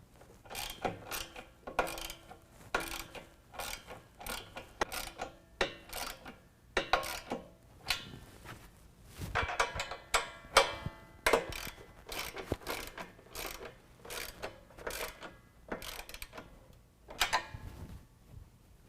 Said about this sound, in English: we're going to tighten up our pinch weld bolts